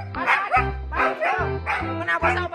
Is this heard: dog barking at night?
yes